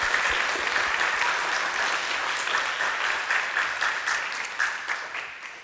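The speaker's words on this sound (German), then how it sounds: "Einen großen Applaus für euch erstmal." A studio audience at a science talk show claps loudly and steadily for a group of children, the dense applause tapering slightly toward the end.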